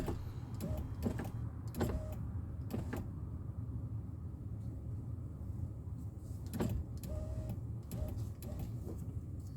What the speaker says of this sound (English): The issue with the window is that it only goes up halfway and then it stops.